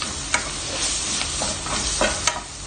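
Coriander powder is stirred into sizzling fish masala in a pan, with scraping spoon strokes over a constant close frying hiss.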